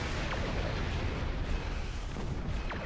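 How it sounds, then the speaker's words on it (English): Polaron cannon fire in the Star Trek Online video game rumbles as dense, booming bursts over a thick low roar, loud and continuous for a few seconds with no voices. "Polaron cannons."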